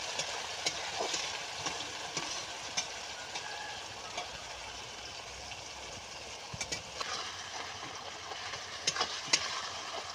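Onion fries in a little oil in a pan, cooked for a gourd and meat curry, a steady, fairly quiet sizzle and hiss with a few faint stirring clicks, no talk.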